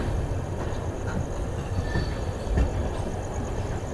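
A 14090 Kotdwar Express LHB train rolls into a station platform with a steady, heavy rumble, faint wheel squeals and a brief clank midway, heard alone without talk.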